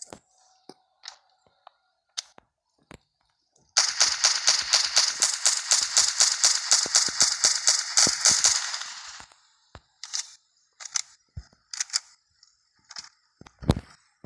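A golden PPSh-41 submachine gun fires in the Ghosts of War game: one long rapid automatic burst of crisp, evenly spaced shots lasting about five seconds, framed by scattered single clicks and snaps before and after.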